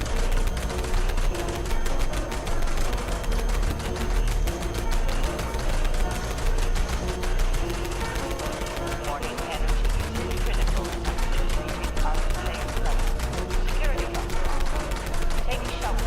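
Rapid automatic gunfire in Fallout 76 V.A.T.S. combat with a Pepper Shaker build, a dense, loud, unbroken volley of shots running the whole stretch, layered with game effects and a voice talking over it.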